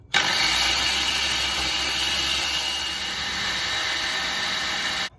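A food processor whirs steadily while olive oil is added to garlic and parsley for a tahini dressing, giving a loud, continuous motor drone with a bright high whine. It runs alone for about five seconds and then stops.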